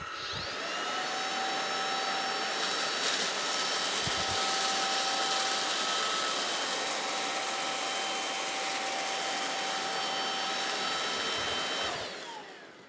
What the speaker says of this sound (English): I'll be using the cleaner in normal mode first.